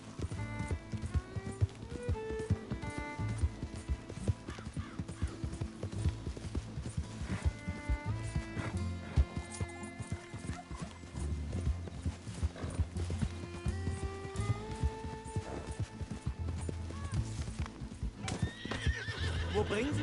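Hoofbeats of a galloping horse clop steadily through the whole stretch with a neigh, in the Red Dead Redemption 2 video game, layered under game music and voices talking in English and German.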